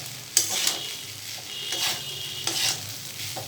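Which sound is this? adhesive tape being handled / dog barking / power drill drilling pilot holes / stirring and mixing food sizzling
stirring and mixing food sizzling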